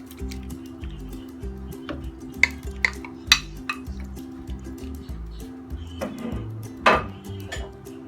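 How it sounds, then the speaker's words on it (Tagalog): Beef and tomatoes dropped into a cooking pot for beef mechado, soft wet plops and a few sharp clinks of a utensil against the pot, under a low steady hum. "Lalagay lang po natin ang ating beef. At ang ating kamatis."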